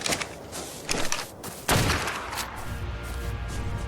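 Gunshots from a firearm in ARK: Survival Evolved, aimed at a bird: a few sharp bursts, then a loud close blast that trails into a sustained rumbling wash.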